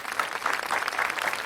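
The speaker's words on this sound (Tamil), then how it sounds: "ஒரு கைத்தட்டல் கொடுத்துடலாம்" An audience at a Tamil stand-up comedy show applauds a comedian, a brief burst of dense, lively clapping from a crowd, steady throughout and without voices over it.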